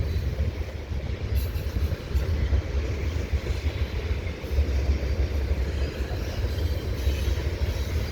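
CPKC AC4400CW locomotives in blue and silver haul a double-stack freight train past Dorval Ramps. It makes a steady, loud rumble of rolling wagons and engine drone, with faint higher squeals over the top.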